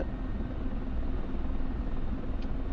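Helicopter in the DCS World flight simulator, a continuous low rotor and engine drone that stays even and loud throughout with no pauses.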